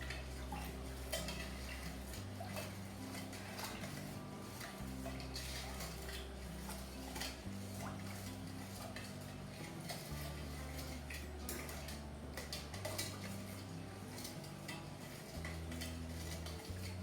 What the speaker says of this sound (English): we're going to give this a nice stir to get everything dissolved